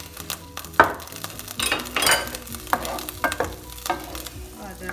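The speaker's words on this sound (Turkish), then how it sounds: "Bademlerimi kavuruyorum." Almonds roast in olive oil in a pot for black rice pilaf, giving a soft sizzle under irregular clinks and scrapes of a utensil stirring against the metal.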